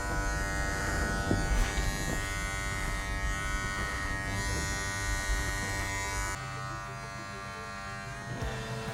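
Electric hair clippers buzz steadily at close range while cutting hair with a tapered blade, their hum shifting slightly in tone as they move through the hair.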